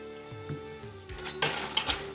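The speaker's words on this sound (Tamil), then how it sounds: "இப்போ இதோட சவுண்டு பாருங்கள் ஒரு சிப்ஸோட சவுண்டு வந்துருச்சுல்ல" Kerala nendran banana chips frying in hot oil, a steady close sizzle with a burst of brighter crackling bubbling partway through.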